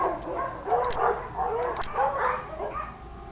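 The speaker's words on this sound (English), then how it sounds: "These dogs have been trained to act vicious on command." Trained guard dogs in a Nancy Drew mystery game bark and yip in repeated bursts, fairly loud and close, with a voice talking over them at times.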